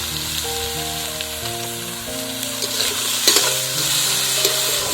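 Neem flowers and eggplant fry in a pan while being stirred, with a steady close sizzle, scraping strokes of the spoon, and a few sharper clinks around the middle; steady tonal lines under the frying suggest background music.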